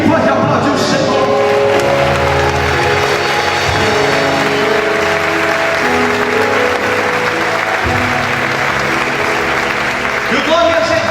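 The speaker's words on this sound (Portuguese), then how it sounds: "Quem pode aplaudir o Senhor?" A church congregation applauding during an evening service, a dense sustained clapping that fills the space, with voices and tonal sounds mixed underneath throughout.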